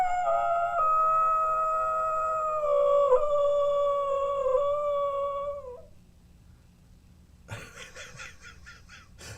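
A dog howls at a TV commercial, giving one long, loud, wavering, tonal howl for about six seconds, followed by a quieter stretch with a few faint, scratchy sounds.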